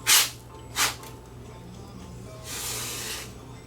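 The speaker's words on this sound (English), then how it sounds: "I just take a can of cold or a can of duster and turn it upside down, and then it becomes a can of cold spray" Canned air duster held upside down as cold spray: two short, loud hissing blasts near the start, then a longer, steadier hiss near the end, with no talk.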